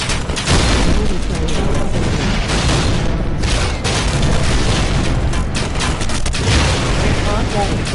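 Artillery fire in the VR battle game League of War VR Arena: loud, continuous heavy booms and blasts with dense rumbling impacts that fill the whole stretch without pause.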